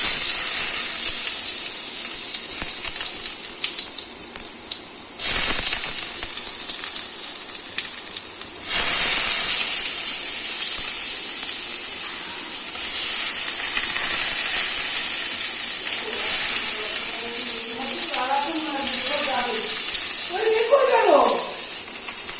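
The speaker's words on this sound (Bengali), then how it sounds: "পটলগুলোকে একদম ডিপ ফ্রাই করতে হবে, লাল লাল করে ফ্রাই করে নেব।" Pointed gourd (potol) deep-frying in hot oil gives a loud, continuous sizzling hiss close by, with a short gap partway through and a voice talking briefly near the end.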